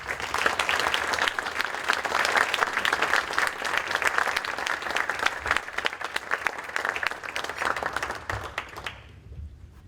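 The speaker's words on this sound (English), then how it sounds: "Please give him a round of applause." Audience at a Chamber of Commerce awards dinner claps warmly and steadily, a full, sustained burst of applause from a seated crowd that fades out sharply near the end.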